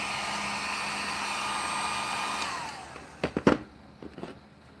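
A hot-air heat tool blows with a steady, loud whooshing drone for about three seconds while warming a plastic toy joint. It then cuts off, followed by a few close clicks and handling knocks.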